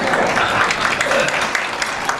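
An audience at an ordination reception breaks into steady applause, a dense, even wash of clapping with a few sharper claps standing out, with some voices mixed in underneath.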